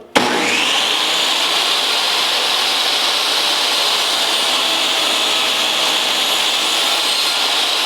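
A power saw running through a saw sled, cutting slots in wooden picture-frame miters for a custom frame; a sharp start-up followed by a steady, loud, whining buzz held without a break.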